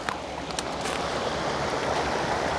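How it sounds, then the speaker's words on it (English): A creek flows steadily in a quiet wooded reservoir area in Pennsylvania, with a constant close wash of running water and no talking. "so peaceful and quiet. Sounds of the creek."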